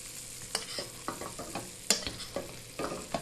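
A steak sizzles in a hot pan while a big spoon bastes its crusted top, with repeated scraping and splashing bursts over a steady close fry.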